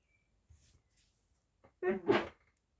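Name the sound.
sneeze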